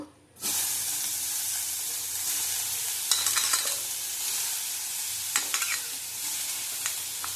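Potatoes and nigella seeds fry in a pan, starting with a sudden loud sizzle that settles into a continuous hiss, with a few brisk stirring scrapes partway through.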